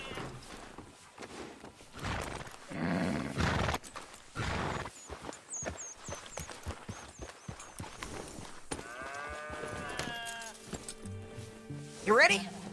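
Horse galloping with clip-clop hoofbeats in Red Dead Redemption 2, mixed with in-game music, ambient sounds and a neigh near the end, with characters talking throughout.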